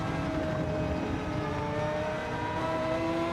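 Race car engine during an evening online race, a steady droning whine with sustained tonal harmonics, constant and moderately loud with no talk.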